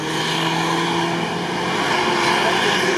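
An off-road car racing fast over sand gives a loud, steady engine roar with a constant broadband rush and droning tones that persist throughout.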